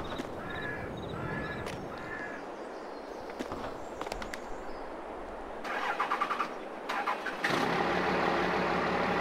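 Old square-body pickup with a swapped 12-valve diesel in Farming Simulator 22, cranking and catching into a rough idle after crow caws, the engine growing louder and steady near the end.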